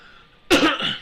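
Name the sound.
throat clearing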